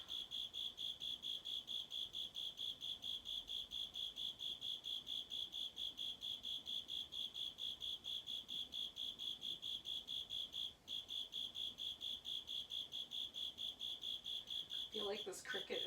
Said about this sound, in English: like this cricket is trying to talk over me